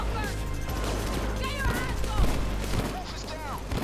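A Queen's Wrath L85 assault rifle in the Payday 2 video game fires in rapid dense bursts amid a loud, busy battle, with voices talking over the gunfire.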